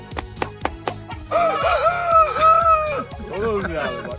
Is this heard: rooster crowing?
yes